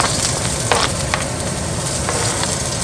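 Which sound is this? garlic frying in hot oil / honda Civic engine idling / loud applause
garlic frying in hot oil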